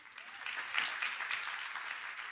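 A seminar audience claps in a brief, steady burst, a soft even patter of many hands heard from a distance at low volume.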